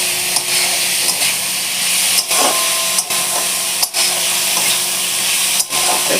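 Chicken keema frying in a pan with onion, tomato and green chili gives off a loud, continuous sizzle, broken every second or so by the scrape of a stirring spatula, with no voices.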